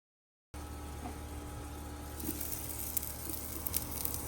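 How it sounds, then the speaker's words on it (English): A New York steak on an opened grill gives off a steady, fairly faint sizzle with scattered small pops and crackles, heard alone. "I just opened it up the grill. I'm about to rotate the steak"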